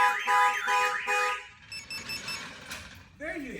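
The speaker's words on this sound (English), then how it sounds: "Once it changes 2 degrees, the alarm system will trigger." A Compustar T13 car alarm, set off by its tilt sensor, cycles through loud electronic siren patterns: a warbling wail, then a rapid series of beeping tones, then a rising whoop, each phase close and clear.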